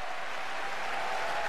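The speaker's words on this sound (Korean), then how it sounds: "명성만큼이나 감동적인 연주에 우레 같은 박수갈채가 쏟아지는데" Thunderous applause fills a concert hall after a touring broadcasting symphony orchestra performs, a dense, even wash of clapping heard only briefly in mid-flow.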